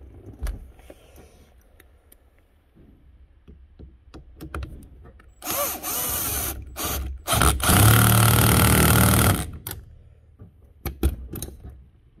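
Impact gun tightening the bolts on an OMP steering wheel fitted to a 2002 Citroen Berlingo, two loud buzzing bursts of several seconds amid scattered clicks and handling noises.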